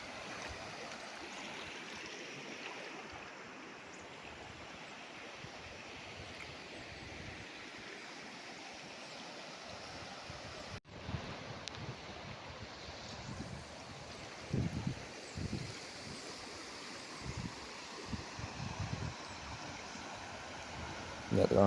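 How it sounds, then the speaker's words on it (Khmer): A forest stream swollen and muddy after rain rushes along steadily in a broad, continuous wash of flowing water, with slightly louder surges in the second half. "កន្លែងនេះគឺជាទឹកអូរនេះក៏ស្អាតដែរ"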